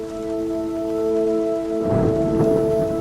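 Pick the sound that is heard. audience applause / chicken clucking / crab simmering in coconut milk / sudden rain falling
sudden rain falling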